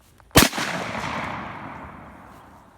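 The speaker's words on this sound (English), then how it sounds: "I'm going to shoot it without putting it on my arm and see how that goes." A single loud shotgun blast, fired close by with the gun held off the arm, a sharp crack followed by a long fading rumble and echo.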